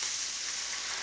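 Broth hits a hot pan cooking fresh cod and rice and sizzles in a brief, steady, fairly quiet hiss with no talking.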